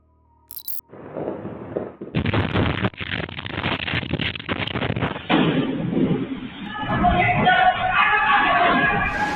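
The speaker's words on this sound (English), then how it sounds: "an explosion of fireworks factory in Linli County, Hunan Province, China" A fireworks factory explosion in Linli County, Hunan Province, China: a sharp burst followed by a dense, loud rumble of crackling blasts and roaring debris that continues without letup, with voices briefly audible amid the noise.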